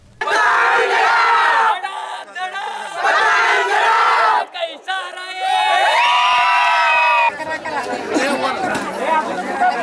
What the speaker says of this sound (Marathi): गुलालाची मुक्त उधळण करीत जोरदार घोषणाबाजी करण्यात आली